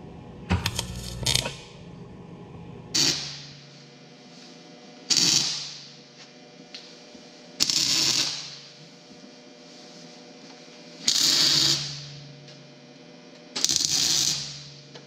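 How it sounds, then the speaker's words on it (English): Steel reinforcement plate being tack welded onto a BMW E46 subframe: five or six short, separate crackling bursts a couple of seconds apart, close and fairly loud over a quiet hum, with some handling clatter at the start. "So I'm gonna tack that one up."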